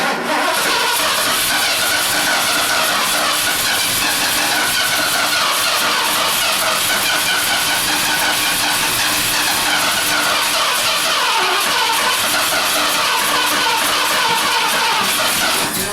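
A Ford 460 V8 engine cranks and runs loudly and steadily up close, a dense continuous mechanical roar with a rapid rhythmic pulse, with no voices heard.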